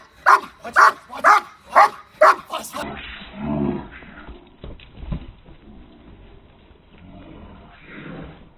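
Police department working dog barking loudly five times in a steady rhythm up close, followed by a handler speaking commands and praise over quieter movement.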